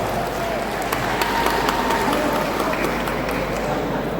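Steady, dense applause from a crowd at an Indonesian student-alumni declaration rally, a continuous wash of clapping lasting the whole stretch at even loudness with no pauses.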